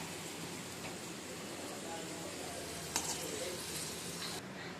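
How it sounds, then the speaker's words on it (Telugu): Grated carrots for carrot halwa frying in a pan, a steady dense sizzle that runs evenly throughout with one small clatter partway through. "అలా వేయించుకోవాలి బ్రౌన్ కలర్లో వచ్చే వరకు"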